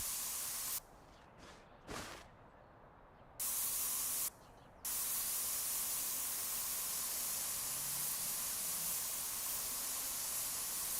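Spray gun hissing as a vehicle panel is painted in the video game Spray Paint Simulator, bursts of steady airy spray broken by short pauses, then one long continuous hiss to the end.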